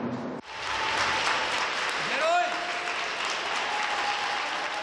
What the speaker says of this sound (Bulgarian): Обвиняемият бизнесмен беше посрещнат от симпатизанти с аплодисменти пред съдебната зала.